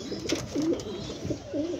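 Domestic pigeons in a breeder's loft coo softly in a repeated, rolling rhythm, faint and close with no other voices.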